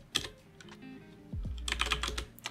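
Typing on a computer keyboard, a short run of near, crisp key clicks in irregular bursts, with a louder cluster of taps toward the end, fairly quiet and with no talking.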